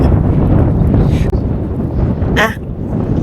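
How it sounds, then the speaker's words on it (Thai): Strong wind at a reservoir campsite, roaring steadily and loudly across the microphone with gusty rumble and a brief whooshing burst near the end. "ลมแรงมาก"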